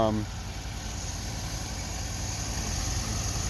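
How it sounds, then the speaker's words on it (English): A Mazda FC RX-7 rotary engine idles steadily after an oil leak repair, a low, even hum close by, with a brief voice at the very start. "so car's running."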